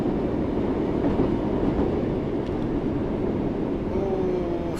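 Class 484 ex-Underground stock running on the Island line in Train Sim World 2, a steady rumble and rolling clatter from the cab with a thin rising whine near the end, no voices.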